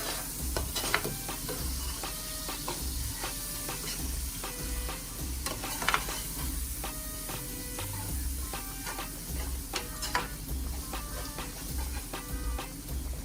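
Minced chicken with allspice being stirred in a pot for a Jamaican dish, a soft, steady sizzle with regular light scraping and ticking strokes of the spoon, fairly quiet and close.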